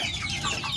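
KUB free-range chickens clucking in a backyard flock, a short burst of overlapping soft clucks close by, no talk.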